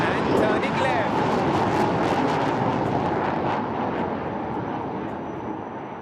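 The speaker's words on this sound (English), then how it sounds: "There she goes, ladies and gentlemen, the mighty Su-30 MKI. Taking off and turning left." A Sukhoi Su-30 MKI fighter jet takes off at the Aero India 2021 air show with a loud, far-carrying jet roar that fades slowly as it climbs away. An announcer speaks over the noise.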